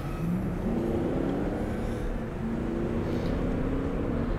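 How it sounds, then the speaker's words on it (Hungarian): A big performance SUV, a Porsche Cayenne S or BMW X7 M50d, launches hard from a standstill on a lap-timing run, its engine note a steady loud roar that rises in pitch as it pulls away, with no talk. "Itt a rajtra vagyok kíváncsi tényleg, mert ezek a nagy autók mindig olyat rajtolnak, amit nem is értek."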